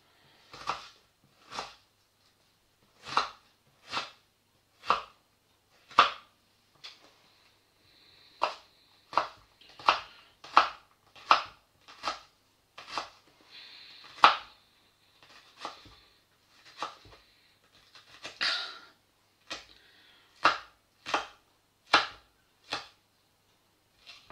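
Shallots chopped with a knife on a board, a long run of sharp, crisp cuts in uneven bursts with short pauses between, close and clear against a quiet background.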